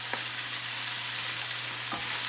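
Tomatoes and cannellini beans sizzle steadily in a hot pan, a soft even frying hiss with a couple of faint stirring clicks, no talking.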